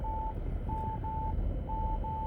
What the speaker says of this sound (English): I'm backing up so you can hear that annoying beep maybe